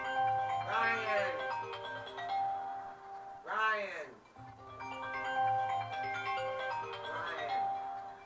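A phone ringing repeatedly from incoming spam calls, a melodic chime-like ringtone sounding in several bursts while a voice calls out over it.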